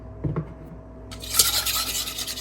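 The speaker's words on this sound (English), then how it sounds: "and then just whisk for a while" Olive oil being whisked into an Italian salad dressing, a quiet tap or two and then a fast, close scraping whisk against the bowl with no talk.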